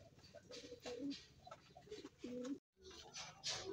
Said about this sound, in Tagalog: Ayan ang ibon ni Boss Eddie.